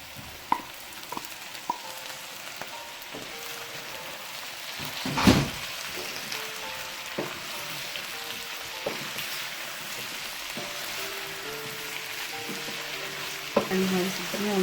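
Potatoes and peas frying in a pan for a vegetable chicken fry, a steady close sizzle with stirring clinks and one louder burst of spatter partway through, no talking.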